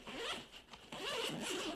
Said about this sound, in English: You can zip that up like that